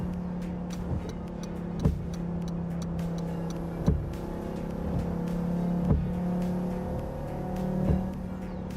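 A Dodge car engine in a racing video game hums at a steady, moderate pitch, with brief rising revs roughly every two seconds, while smaller clicks and ticks sit over a low drone.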